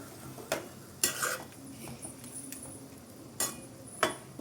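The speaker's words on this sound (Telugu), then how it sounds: "ఇది కొంచెం పచ్చిమిర్చి వేసాం కదా, కొంచెం ఆయిల్లో ఫ్రై చేస్తే బాగుంటుంది అనమాట." Green chilies in oil for biryani, a faint low sizzle broken by several sharp metallic clinks and scrapes of a utensil against the pan, spaced irregularly.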